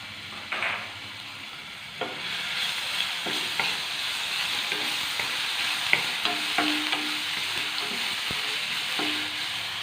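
Crushed ginger and garlic sizzle in hot oil with a steady crackling hiss, punctuated by repeated light scrapes and taps of a spoon stirring the pan at close range.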